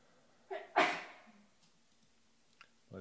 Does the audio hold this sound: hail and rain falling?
no